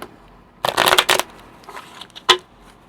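A deck of tarot cards shuffled for a reading: a quick burst of riffling and flicking, then a few softer shuffles and one final crisp snap, close and without voices.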